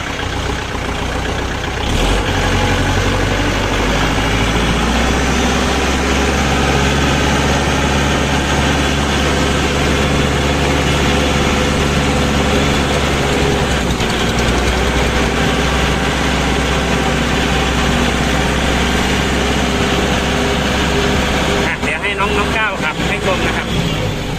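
A used 2011 Kubota L4708 47-horsepower tractor idles close by with a loud, steady, low diesel rumble that runs unbroken throughout, with a short burst of disturbance near the end.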